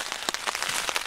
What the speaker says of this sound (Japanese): なんで雨降るかね